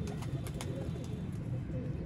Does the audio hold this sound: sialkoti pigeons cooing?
yes